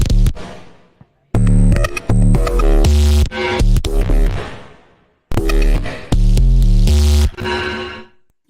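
Loud synthesizer tones jump between different pitches, with an LFO randomizing the changes. They come in two dense bursts of abrupt, stepping notes, with brief silent gaps between them.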